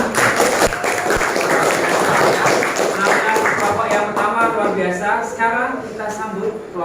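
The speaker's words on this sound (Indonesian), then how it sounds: "Tepuk tangan buat kelompok yang pertama." Classroom audience in an Indonesian school music lesson applauding the first group, a dense burst of hand claps with sharp taps mixed with voices throughout.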